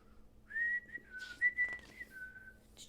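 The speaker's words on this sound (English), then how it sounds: "I hear a zookeeper whistling in my ear." A person whistles a short gliding tune, a few rising and falling notes, fairly close and clear against a quiet background.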